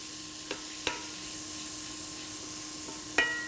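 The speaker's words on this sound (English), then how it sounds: "I'm gonna let this saute for at least 2 minutes" Chicken thighs sautéing in a pan with olive oil, a soft, even sizzle broken by three or four sharp clanks of a utensil against the pan, no talking.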